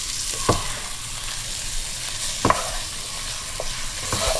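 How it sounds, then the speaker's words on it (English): Meat browning in a pan for Persian spinach and prune stew, a steady soft sizzle with a few sharp clatters of stirring utensil against the pan, close and alone without talk. "We're trying to saute this about like maybe 6 or 7 minutes till the meat gets a little bit brown."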